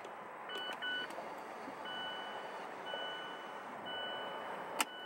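Mazda CX-5 chiming a series of short electronic beeps during electronic parking brake calibration, heard in a quiet garage with a steady low background hum and a sharp click near the end.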